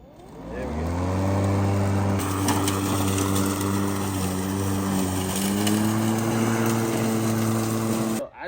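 PowerSmart 40V 21-inch cordless push lawn mower running with a steady, loud electric motor hum and whir that holds for several seconds, then cuts off abruptly at the end.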